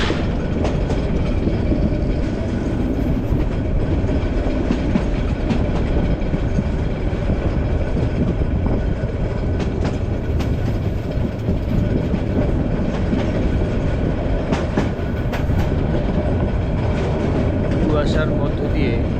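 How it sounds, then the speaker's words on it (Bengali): Meghna passenger train from Chandpur to Chattogram on a foggy winter morning, a continuous loud rumble and rhythmic clatter of wagons passing close by, with a brief high wheel squeal near the end. "এটা হচ্ছে মেঘনা ট্রেন, চাঁদপুর থেকে এর গন্তব্য হচ্ছে চট্টগ্রাম।"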